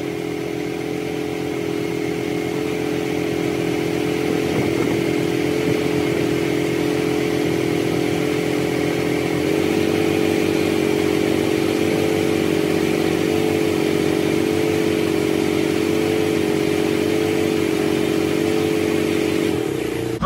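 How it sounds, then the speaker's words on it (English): A Detroit DD15 diesel engine idles with a steady, loud, close drone during a manual injector cutout test, its tone shifting slightly partway through as cylinders are cut one at a time. "I'm just trying to get the engine to work a little bit."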